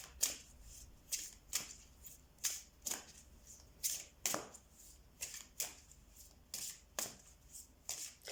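Tarot cards are shuffled by hand in a steady rhythm of about twenty quick riffling bursts, close and clear, with no one talking.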